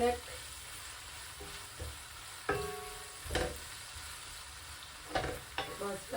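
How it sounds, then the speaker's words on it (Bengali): Sliced onions sizzle gently in hot mustard oil in a home kitchen for biryani, with occasional clinks and scrapes of a utensil stirring the pan, quiet and close. "পেঁয়াজটা একটু ভাজা ভাজা করে নেব"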